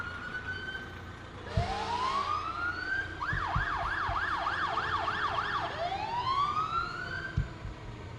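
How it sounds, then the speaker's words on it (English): A fire truck's siren wails and yelps as it rolls past in a holiday parade, rising sweeps then rapid warbling cycles, loud and near, with engine rumble and a few horn blasts underneath. "in the fire truck that's going by right now"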